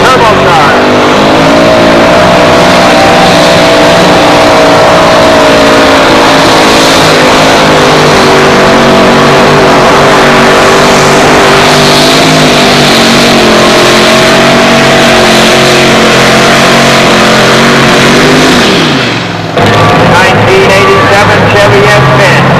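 Turbocharged Chevy S10 two-wheel-drive pulling truck with a 572 cubic inch engine revs loud and sustained down a pulling track, a steady high-powered roar that drops off abruptly near the end.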